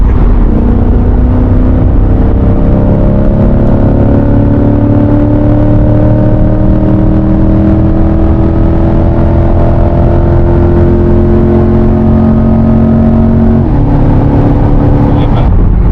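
An Audi car drives and speeds up, its engine a steady loud drone with rising tones that climb through the whole stretch, while people talk over it inside the cabin.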